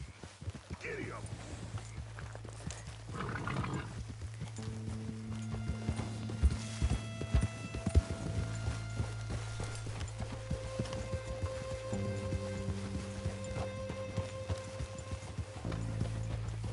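Horse hooves clatter in Red Dead Redemption 2, a steady close clip-clop running through the whole stretch, with sustained musical tones and a voice briefly at the start.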